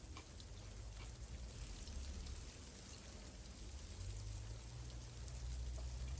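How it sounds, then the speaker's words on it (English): Steady rain blown over by an easterly wind outdoors, a soft, continuous patter of drops with a low, rushing wind rumble underneath, faint and unbroken throughout. "it's blowing the rain over the top of me and not in"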